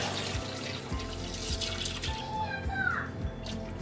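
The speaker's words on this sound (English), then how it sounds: "So we're going to add the water" Water pours steadily into a large canning pot for strawberry jam, a continuous splashing rush with a rising gurgle near the end.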